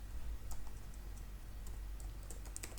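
Someone types code on a computer keyboard for a Laravel 8 tutorial, with quiet scattered key clicks, a few faster bursts near the end, over a low steady hum.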